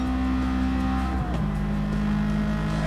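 Race car of about 400 horsepower in Gran Turismo 7, a loud, steady engine drone on a straight with one quick drop in pitch at a gear change before it holds again, close and without talk.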